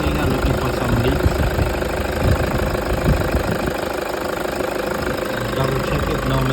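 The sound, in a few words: 2008 Toyota Hilux 1KD diesel engine idling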